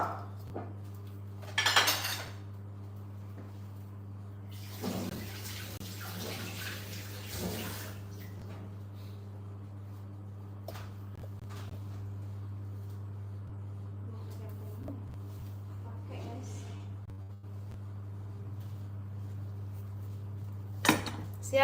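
Wok and pans clatter and clank during preparation for frying pastel in a home kitchen, with a few sharp metallic knocks and scrapes spread over a steady low hum, plus a louder clink near the end.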